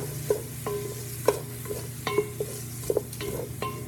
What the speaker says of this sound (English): here comes the onions. Okay, that's all the onion I have to provide going to mix it all up